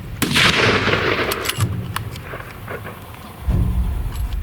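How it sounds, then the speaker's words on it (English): Rifle shots fired during a spot-and-stalk mule deer hunt in Washington, several sharp, loud cracks spread across the moment, each trailing off outdoors with no talk over them. "Shoot again, Ross."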